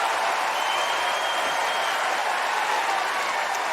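A tennis crowd at the 2025 US Open applauds and cheers for Frances Tiafoe, sustained loud clapping filling a large stadium without letup.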